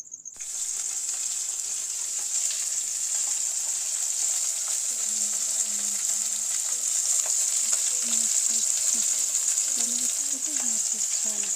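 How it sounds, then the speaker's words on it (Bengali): Fish fries in a pan with a steady, loud, unbroken hiss of sizzling oil that runs for over ten seconds, and a faint murmur sounds low in the background. "আর এই যে মাছ ভাজি আমি।"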